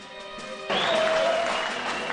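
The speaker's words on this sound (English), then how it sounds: "Big round of applause for everyone involved." Applause for racers at a trophy presentation after an off-road 500 race, breaking out suddenly partway through and continuing as a steady crowd clap with a faint tone and murmur beneath.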